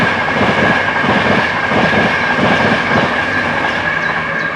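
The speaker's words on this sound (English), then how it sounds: "let the train go past." A train rolls past at close range, loud and continuous, with rhythmic clattering of wheels over rail joints and a faint metallic squeal running through the rumble.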